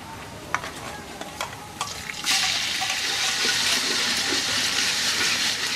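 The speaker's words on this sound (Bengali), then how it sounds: "পেঁয়াজগুলো ভাজা হয়ে গেছে, এখন এর মধ্যে দিয়ে দেব আদা রসুন বাটা" Ginger garlic paste dropped into onions frying in oil for chicken curry with khichuri: a few soft stirring taps, then a loud, steady sizzle bursts up and holds close by, with no talk.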